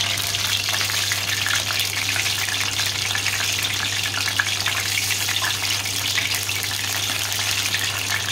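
Shrimp fritters bubbling in hot oil inside a Compact Cook Platinum multicooker give off a steady, close, continuous frying sizzle that holds even throughout with no talk.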